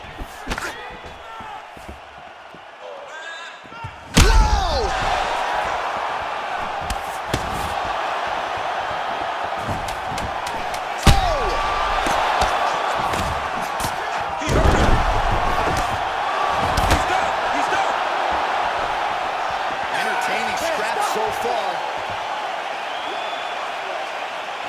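Arena crowd in the EA Sports UFC 4 video game roars and swells in response to heavy strikes, a steady loud crowd bed punctuated by sharp thudding impacts and cheering bursts, with no speech over it.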